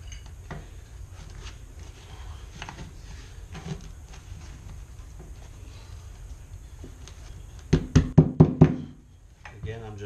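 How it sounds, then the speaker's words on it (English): A hammer taps the edge of a metal Z-bar carpet transition strip down at a carpet-to-vinyl doorway: a quick cluster of four or five sharp metallic knocks near the end, after a stretch of quiet shuffling and handling. "I'm just tapping the edge of the metal down is what I'm doing."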